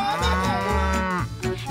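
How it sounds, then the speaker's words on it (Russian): A cow on a farm gives one long, close, drawn-out moo that rises and falls over nearly two seconds, clear and alone. "Это корова."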